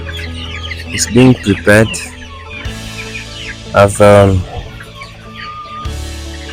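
Chickens cluck and call loudly in a pen, with a few close, sharp bursts standing out, while a person talks quietly between the calls.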